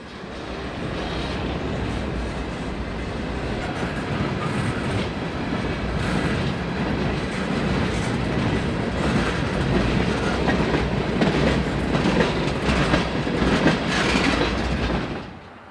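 A Norfolk Southern coal freight train rolls past steadily and loudly, its wheels clattering over rail joints in a continuous clickety-clack that builds slightly before cutting off.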